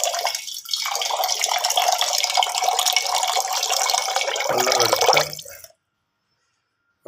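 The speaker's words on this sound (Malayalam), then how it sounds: "വെള്ളം എടുക്കാൻ നമ്മുടെ ഫിൽറ്ററിൽ നിന്ന് വെള്ളം എടുക്കുവാണ്." Water runs steadily from a kitchen water filter tap for about five seconds, a loud continuous splashing stream that cuts off abruptly, with no talking.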